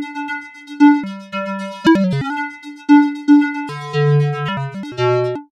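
A synth drone run through the Filterverse filter plugin pulses in tempo-synced rhythmic patterns, its pitch and tone jumping and sweeping loudly, with no other sound.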